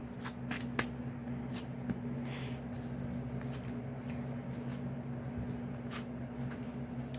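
Tarot cards being shuffled by hand, giving a soft, continuous papery rustle with a few sharper flicks over a steady low room hum.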